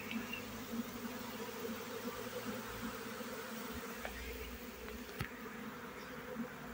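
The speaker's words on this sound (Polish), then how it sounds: "jest rójka i tu mnóstwo pszczół jest" A large swarm of honey bees leaving the hive hums in a steady, dense drone throughout, with no voices, and one or two brief knocks partway through.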